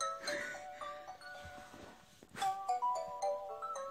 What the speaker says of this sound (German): Sorry, wegen Klingelton.